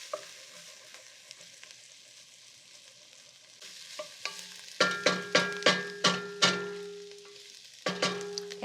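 Garlic sizzles in a hot pan while a spoon stirs it, giving a steady crackle broken by a run of sharp, rhythmic scrapes and clinks close by, with no talking.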